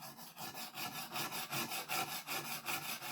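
Aurillac knife blade drawn back and forth on a diamond sharpening plate, producing a fast, even rhythm of close rasping strokes, about four per second, with no talk.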